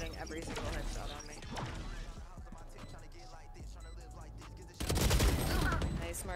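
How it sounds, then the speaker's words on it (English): Gunfire from Phoenix in the video game Valorant, first a scattered crackle of shots under voices, then a loud, dense burst of rapid fire near the end. "Phoenix is just running and gunning and hitting every single headshot on me."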